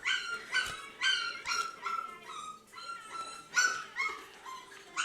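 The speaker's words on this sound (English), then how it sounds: "See? They got all the dogs crying." Several dogs bark and whine in high-pitched cries, repeating in irregular bursts roughly every half second, moderately close and with no talking over them.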